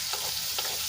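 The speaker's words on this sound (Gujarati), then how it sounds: "ડુંગળીને આપણે સરસ રીતે તેલમાં મિક્સ કરીને એને આપણે સોફ્ટ થવા દઈશું" Onions sauté in oil in a pan, giving a steady bright sizzle with a couple of soft stirring scrapes within one brief moment.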